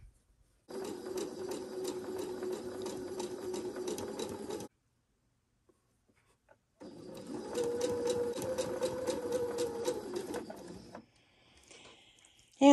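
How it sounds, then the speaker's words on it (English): A sewing machine chain-sewing flying goose quilt block pieces, two bursts of fast, even stitching of about four seconds each, separated by a pause, close and loud with a faint handling click at the end. "we can chain sew this together"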